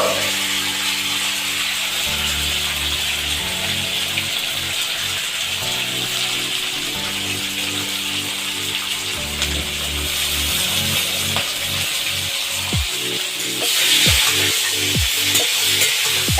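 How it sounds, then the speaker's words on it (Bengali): Washed vegetables fry in a wok, giving a steady loud sizzle with rhythmic scraping and stirring, plus a few sharp knocks of the spatula near the end. "এরপর একে একে সব ধোয়া সবজিগুলো কড়াইতে ভালোভাবে ভেজে নেব।"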